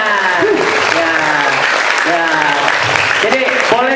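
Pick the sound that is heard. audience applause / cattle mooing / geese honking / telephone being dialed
audience applause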